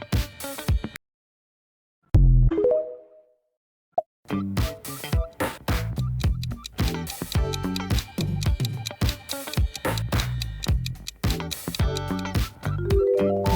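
The TikTok logo jingle plays: a brief silence, a bright plucked note, then a busy rhythmic electronic burst of clicks and tones, loud and up front.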